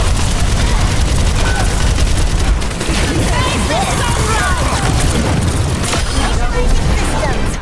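Ultimate abilities firing in Overwatch 2 gameplay, a loud dense barrage of blasts, booms and rapid gunfire layered continuously, with voices talking through the din.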